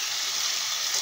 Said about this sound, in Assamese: অকণমান তেল কম হয় তেল দি এয়া এতিয়া মাংসখিনি ভাজিবলৈ লৈছোঁ